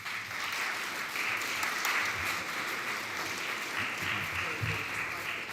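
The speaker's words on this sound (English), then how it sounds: "can I ask for a round of applause for our wonderful panel?" An audience applauds a panel at the close of a justice-themed talk, a sustained, even patter of many hands at moderate level that carries on steadily without a break.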